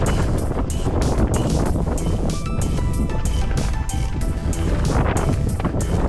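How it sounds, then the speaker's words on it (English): Strong, gusty wind roars continuously through the microphone on a desert mountain-bike trail near Las Vegas, loud and buffeting with no voices. "the wind just got worse, and with a vengeance"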